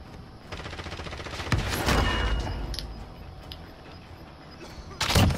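Gunfire during a Call of Duty Warzone match at Fortune's Keep, with rapid automatic bursts and scattered single shots. Some are close and sharp, others farther off, and a loud blast comes near the end.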